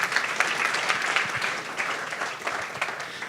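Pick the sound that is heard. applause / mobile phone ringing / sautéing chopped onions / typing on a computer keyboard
applause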